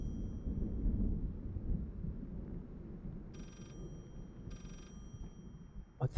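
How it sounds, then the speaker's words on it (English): Thunder and rain rumble steadily in the horror game Layers of Fear, a dense low storm wash with two brief telephone rings sounding over it and a sharp crack near the end. "The sound of the thunder and the rain and everything."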